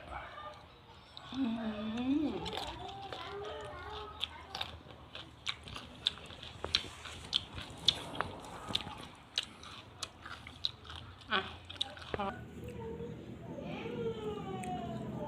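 Raw mango dipped in fish sauce being bitten and chewed close up, with repeated sharp crunchy bites and wet chewing through the clip, and a person talking in between.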